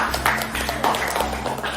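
Students in a classroom give a short round of applause during a maths lesson, a brief patter of clapping over a steady low hum.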